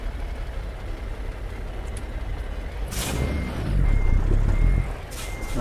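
A Kenworth T600 truck in American Truck Simulator backs up with steady, repetitive reversing beeps over a low rumbling engine and the hiss of air brakes, getting louder near the end.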